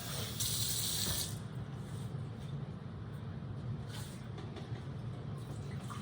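Tap water pours from a kitchen faucet to make coffee, a steady hiss and splash with a brief brighter gush near the start, then a constant, moderately quiet flow.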